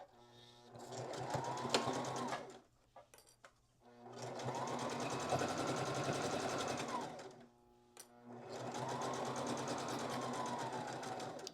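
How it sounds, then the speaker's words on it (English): Sewing machine stitching fabric with a 1/4 inch seam allowance, made from men's shirts for a dog bandana; three loud, steady whirring runs of stitching separated by brief pauses. "I'm sewing with a 1/4 inch seam allowance here."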